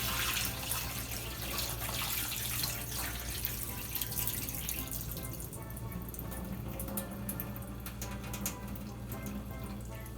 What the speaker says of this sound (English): we're gonna pour off our soaking water